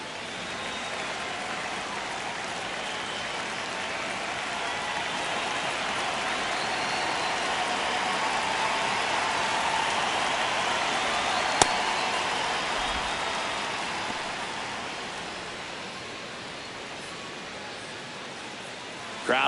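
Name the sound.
baseball stadium crowd, White Sox vs Yankees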